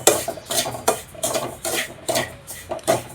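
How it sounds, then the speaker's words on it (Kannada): Semolina (rava) being roasted in ghee in a pan, with a metal spoon scraping and stirring in a steady rhythm of gritty rasps and clinks, up close and with no voices. "ರವೆ ಹುರ್ಕೋತಾ ಇದ್ದೀನಿ."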